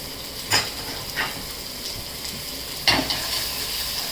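Eggs fry in a pan with a soft continuous sizzle, punctuated by a few sharp scraping clinks of a utensil against the pan.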